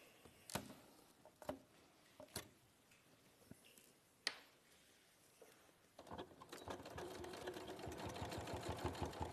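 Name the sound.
sewing machine stitching down the sides of a pouch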